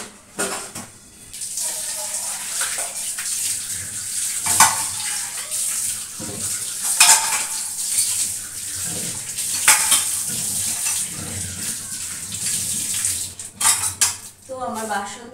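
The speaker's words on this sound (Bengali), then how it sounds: "আমার বাসন ধোয়া সব কমপ্লিট।" Dishes, pots and cutlery being washed under running water, with steady close clattering and clinking of metal and crockery over the continuous rush of the tap, and sharper knocks scattered throughout.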